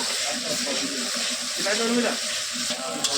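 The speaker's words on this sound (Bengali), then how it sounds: "একদম লাল লাল ঝাল ঝাল মশলা কষানো হয়ে গেছে তেলটা ছেড়ে দিয়েছে" Spicy red masala for tarka sizzles and fries in oil, a dense continuous crackle with occasional stirring scrapes, close and fairly loud.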